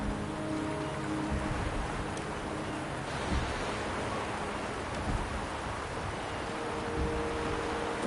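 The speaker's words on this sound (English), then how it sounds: "The rain is subsiding," Steady rain pours down in a video game scene, a dense, even hiss of drops filling the whole stretch without any break, with no voices over it.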